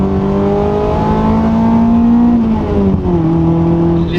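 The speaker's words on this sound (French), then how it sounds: "On va se faire un petit downshift." A 1993 Toyota MR2 engine revs through a downshift, a loud close whine climbing then dropping and rising again as the gear changes, heard from inside the car without talking.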